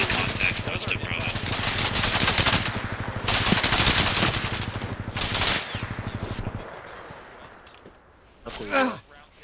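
Rapid automatic gunfire in the military shooter Bellum crackles in long dense bursts, loud and close, then cuts out, leaving quieter ambience and a brief voice near the end.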